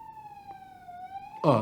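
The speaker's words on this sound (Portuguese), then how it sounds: "É só começar a gravar, até a ambulância aparece" An ambulance siren sounds as a steady, slowly falling wail through most of the clip, moderately close, with a louder burst of noise near the end and no talking.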